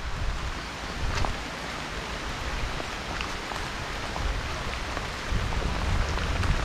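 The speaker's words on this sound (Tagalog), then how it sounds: "Sumobra na yung ulan." Rain falls steadily and hard, a dense hissing patter on surfaces that continues unbroken throughout with no talking.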